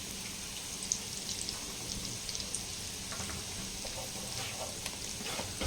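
Urad dal vadas frying in hot oil for breakfast, giving a steady, soft crackling sizzle with scattered pops throughout. A quiet voice can be heard faintly now and then beneath the sizzle.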